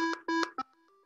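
A micro:bit plays a programmed melody of short electronic beeps, a quick run of about five tones that drop in pitch and then end on a soft held note, faint and alone.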